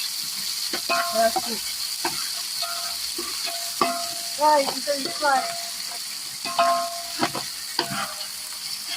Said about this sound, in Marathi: आणि आता कांदा आता टाकलेला आहे कांदा परतून द्यायचं त्याला